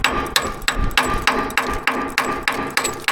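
Hammer striking a rusty, rotted old Peterbilt truck frame outdoors, about ten sharp metallic blows in a quick, even rhythm, close and loud.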